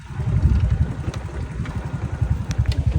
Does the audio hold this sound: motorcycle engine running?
yes